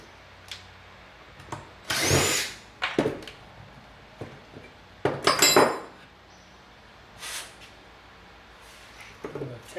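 A drill bit bores through a fuel rail in short, separate bursts of whirring and grinding, with quiet pauses between them, close to the listener.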